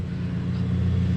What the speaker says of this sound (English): excuse the lawnmower back there